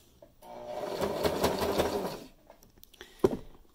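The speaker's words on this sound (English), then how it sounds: "Always stop and take your pins out so that you reduce the chance of sewing over a pin." A sewing machine stitches fabric in a short burst of rapid, even needle strikes lasting under two seconds, close and clear, ending with a single sharp click.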